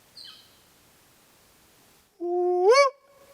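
A bird in lakeside trees near Mabel Lake, British Columbia, gives a faint short chirp, then after a quiet pause lets out one loud, close, rising call lasting under a second, with no talking.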